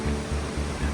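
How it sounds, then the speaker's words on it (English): Poseidon Creek on the Milford Track rushes in a steady, broad wash of water noise, fairly close and continuous, with no talk. "Poseidon Creek"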